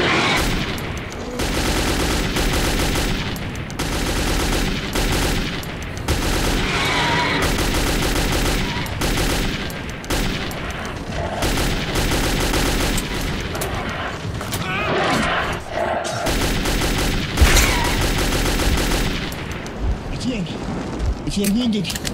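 Dense gunfire and explosions in the Metro 2033 video game prologue, a near-continuous barrage of loud shots and bursts with shouted voices mixed in throughout.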